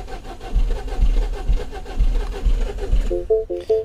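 A 2012 Mini Cooper 1.6 l with a manual gearbox cranks without starting, its starter churning in a steady, rhythmic whir of about seven even compression pulses. It ends with a few short warning chimes; no one speaks.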